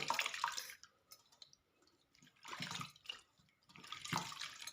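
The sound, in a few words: water splashing while washing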